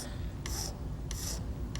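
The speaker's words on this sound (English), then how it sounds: "I'm using a file to sharpen it back some" A hand file is drawn across a steel flat graver used for bright-cut engraving. Two or three short, scratchy rasping strokes cut through a steady background rumble, close by.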